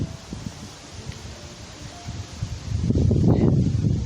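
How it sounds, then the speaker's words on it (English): High wind gusting over an outdoor garden plot, a low steady rush that swells into a louder, rough buffeting blast near the end, with wind noise striking the microphone. "Whoa, high wind."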